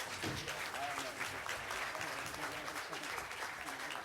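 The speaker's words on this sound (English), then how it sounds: "Let's give them a good round of applause." Audience applause after a California state legislative candidates forum, a steady, full round of many hands clapping at moderate distance, with some chatter mixed in beneath.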